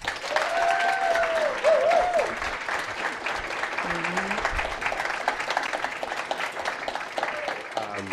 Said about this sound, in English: Please clap loudly for Abby and Danielle and Alexandra.